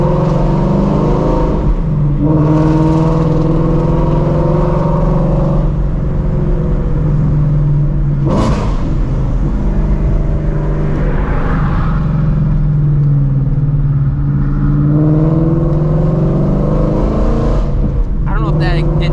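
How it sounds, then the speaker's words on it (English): A Shelby GT350 Mustang exhaust rumbles and revs at night from inside the car, rising and falling through gear changes, with someone talking over it. "at night the exhaust really does hit way different during the day"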